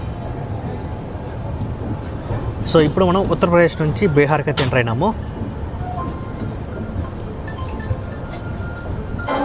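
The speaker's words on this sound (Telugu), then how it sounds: "మన ట్రైన్ చాప్రా జంక్షన్కి అయితే చేరుకుండింది" Pawan Express rolling into Chapra Junction in Bihar, a steady low rumble of train wheels and carriage noise throughout, with someone speaking briefly over it midway.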